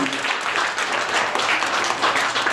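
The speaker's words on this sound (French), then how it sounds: "je vous demanderai d'applaudir Maya Chen qui est là-bas." An audience at an awards ceremony in Brussels applauds steadily, dense clapping at moderate loudness sustained throughout without a break.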